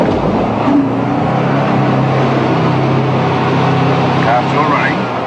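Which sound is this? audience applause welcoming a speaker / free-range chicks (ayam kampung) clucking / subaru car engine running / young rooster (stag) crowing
subaru car engine running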